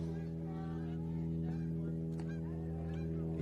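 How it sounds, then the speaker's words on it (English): Two geese honking as they fly over a baseball game, their calls heard above a steady droning hum, with people talking in the background. "2 geese just flew over."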